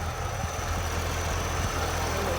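A Chevy Corvette Z06 with a supercharged engine idles, giving a steady low rumble with a faint constant whine above it, heard close and continuous with no voices.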